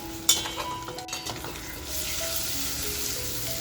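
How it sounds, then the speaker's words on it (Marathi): Eggs fry in a generous pool of oil over a low flame for kharda anda masala, a continuous close sizzle and crackle with a few light utensil clinks, the spattering growing denser and steadier toward the end. "तर बघा आपली अंडी अशी छान फ्राय झाली"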